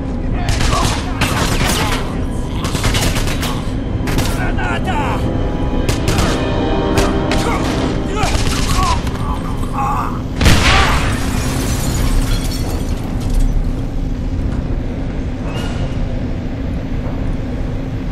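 Rapid bursts of gunfire crackle in dense volleys in Wolfenstein (2009), with one heavier boom near the middle, loud and close, continuing almost without pause.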